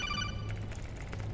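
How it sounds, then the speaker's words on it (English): Codec call ringing in Metal Gear Solid 4, a steady electronic trilling ring with a bright repeating tone over a low hum, continuous for the whole moment. "I thought that was my phone going off for a second."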